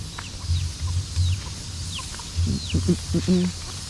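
Chickens and chicks cluck and chirp in scattered bursts nearby in Indonesia, with outdoor background noise and a few low sounds.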